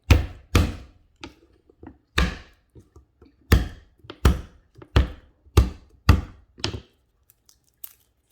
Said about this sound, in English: So we're just gonna crush and mince our garlic.